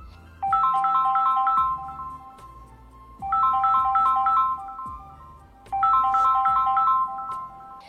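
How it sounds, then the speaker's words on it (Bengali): A mobile phone lying beside someone at a quiet, secluded spot rings with a melodic ringtone, a bright repeating pattern of notes in three looping bursts, loud and close, with no voices. "তখনই ওর পাশে রাখা ফোনটা বেজে উঠল।"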